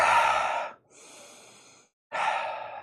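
Close, breathy sniffing at a scratch-and-sniff vinyl record cover for an album: two strong inhales separated by a softer, longer draw of air, with no talking.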